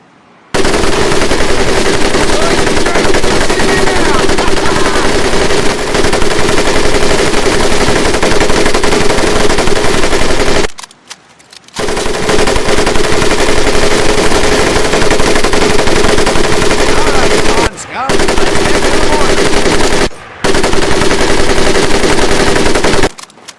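Automatic weapon fire in the PC game Medal of Honor: Pacific Assault: loud, close, sustained rattling bursts that run for long stretches, broken by a few short pauses.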